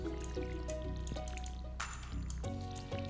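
Watering-can splashes and drips fall on potato plants in Stardew Valley, a run of short wet drip and trickle effects over a steady game music loop.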